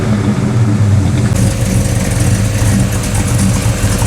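The V8 engine of a 1967 Pontiac GTO idles loud and close with a rough, choppy rumble that holds steady throughout, with no talk over it.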